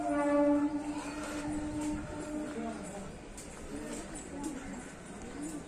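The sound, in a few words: special passenger train arriving at a railway platform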